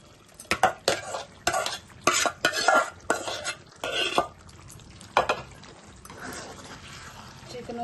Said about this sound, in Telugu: ఇలా మెత్తగా రుబ్బుకున్న గోంగూరను ఉడుకుతున్న చికెన్లో కలుపుకుందాం.